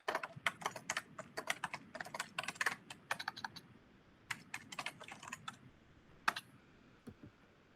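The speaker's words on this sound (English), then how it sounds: "We've got some keyboard clicks in the background." Computer keyboard clicks behind an online meeting, quick irregular bursts of close, crisp keystrokes with brief pauses, no talk over them.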